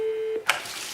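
A Grandstream GXP2135 desk phone gives a short steady beep tone when its page button is pressed, followed by a quick click, close and clear with no talk.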